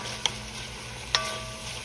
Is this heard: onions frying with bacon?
yes